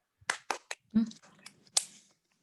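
A group performs a rhythmic clapping pattern for the letter M during a teacher training session, a handful of sharp separate claps in an uneven rhythm, with a short vocal call partway through and a final clap near the end.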